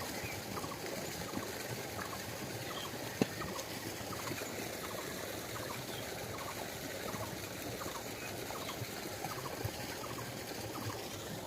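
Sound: water flowing in from a river

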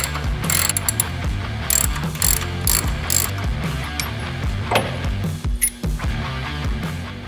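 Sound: ratchet with 3/4 socket removing Harley shock bolts

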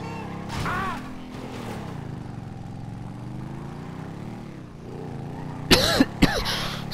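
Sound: cough

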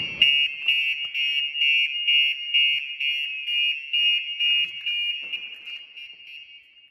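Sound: car alarm triggered by opening the Challenger's hood

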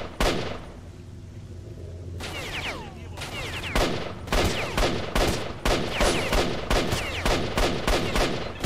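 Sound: gunfire from a gun in the video game STALKER

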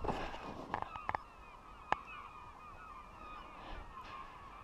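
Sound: birds calling overhead, likely geese

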